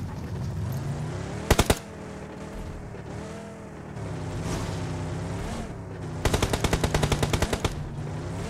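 Bursts of rapid machine gun fire ring out in a PUBG Mobile match, a short volley early and a longer rattling burst near the end, over a droning engine-like background.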